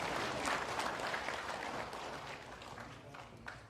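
Sustained applause from an audience at a Vietnam War veterans' rally and special lecture in Korea, a steady dense clatter of many hands clapping together that fades slightly toward the end.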